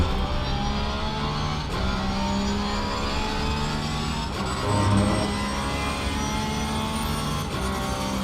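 GT3 race cars, including a Porsche, howl continuously in a racing sim, a loud, sustained engine whine with rising gear pitches and brief dips at shifts, other cars' engines blending in the mix.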